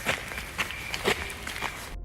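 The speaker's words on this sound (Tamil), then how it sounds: "கூடவே ஆட்கள் வருவது போல காலடி சத்தம் கேட்கிறது" Several people's footsteps approach at night, quick irregular steps on a hard surface with a few sharper scuffs, moderately close, ending abruptly in silence.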